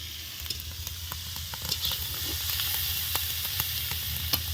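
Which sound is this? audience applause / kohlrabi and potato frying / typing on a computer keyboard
kohlrabi and potato frying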